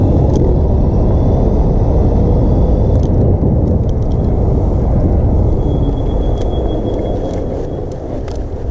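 A dual-motor electric scooter pulls away hard from a standstill, giving a loud, steady rumbling drive noise with wind and road roar, close and continuous throughout, with a few faint clicks above it.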